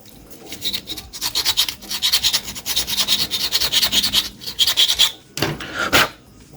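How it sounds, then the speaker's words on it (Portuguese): Plastic timer knob from an air fryer being sanded by hand, a steady run of close, raspy back-and-forth strokes with brief pauses, ending in a few sharper scrapes. "vou botar mais uma lixada ainda aqui"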